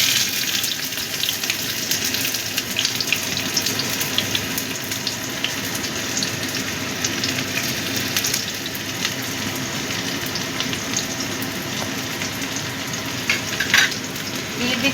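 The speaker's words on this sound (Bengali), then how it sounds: "তেলটা ভালো মতো গরম হয়ে গেছে, এবার আমি দিয়ে দিচ্ছি পেঁয়াজ কুচি।" Chopped onions fry in hot oil in a kadai for a potato paratha, giving a steady, dense sizzle that holds close and even throughout, with faint scraping stirs and no voices.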